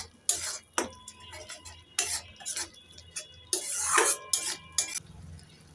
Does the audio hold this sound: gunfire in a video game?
no